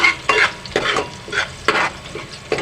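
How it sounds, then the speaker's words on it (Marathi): Bay leaves roasting in a pan while a spatula stirs them, sizzling fry noise under repeated scraping strokes, about five uneven stirs, close and clear. "आणि भाजा तमालपत्र छानपैकी मिक्स करा"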